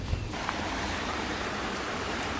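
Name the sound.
water of the Eight Mile River flowing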